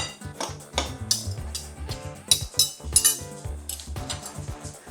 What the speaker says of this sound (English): You would just literally cut across the butter and flour until it's all mixed in.